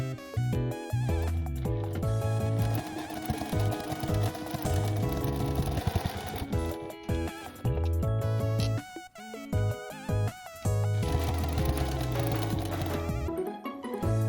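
A sewing machine stitches a patchwork fabric pouch 0.3 cm from the edge, its motor whirring in bursts of rapid, even stitching broken by short pauses, while gentle background music plays throughout.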